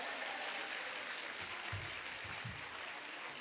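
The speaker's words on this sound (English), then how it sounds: "Another round of applause, ladies and gentlemen." Audience applause at a judges' conference in Cape Town, a faint, steady wash of clapping from a crowd with a few louder nearby claps.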